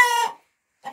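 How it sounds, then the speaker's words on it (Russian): A Lohmann Brown laying hen gives one short, close, tonal cluck. After a silent pause, a second faint cluck begins. "Вот, уже снесла одна курочка яичко молоденькое."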